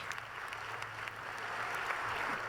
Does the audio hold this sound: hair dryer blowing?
no